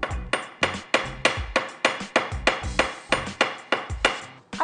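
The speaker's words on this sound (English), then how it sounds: "she's going to hammer all of her links" A planishing hammer strikes silver chain links on a steel block in a steady series of sharp metallic taps, about three per second, close and loud with no talk.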